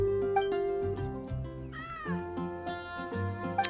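Paisley the cat in Genshin Impact gives a drawn-out meow mid-clip over gentle background game music, a single clear nearby cry rising and falling.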